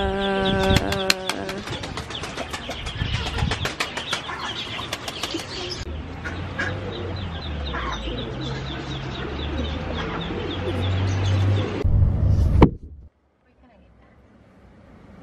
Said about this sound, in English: Hi, baby duckies!